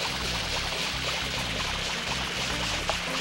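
Water refilling in the Super Mario Sunshine video game: a steady, dense rushing pour that runs unbroken for the whole stretch, loud and close, with no talking.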